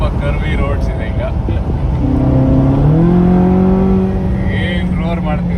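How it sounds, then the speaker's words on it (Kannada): A Ferrari California 30 engine on a curvy road roars from inside the car, its note climbing and holding steady as it accelerates, with some background voice at times. "ಏನ್ ರೋರ್ ಮಾಡ್ತಿದೆ ನೋಡಿ ಇಂಜಿನ್."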